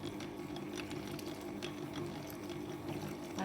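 Cold milk diluted with water is poured into a mixer bowl while an electric mixer hums on low speed, a steady soft liquid trickle over continuous motor drone, close and faint.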